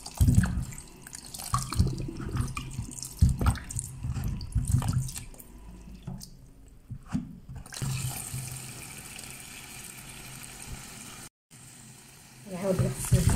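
Peaches are rinsed one by one under a running kitchen tap, with a steady stream of water splashing into the sink and rushes and drips that vary as the fruit is handled.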